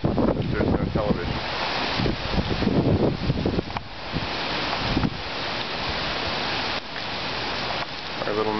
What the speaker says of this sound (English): Lots of wind-driven rain.